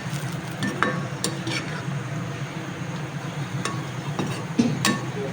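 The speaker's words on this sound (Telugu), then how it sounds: "ఆనియన్స్ ఫ్రై అవుతున్నాయి." Onions frying in a pan of oil for restaurant-style chicken pulao give a steady, close sizzle, with a few sharp clinks of a utensil against the pan.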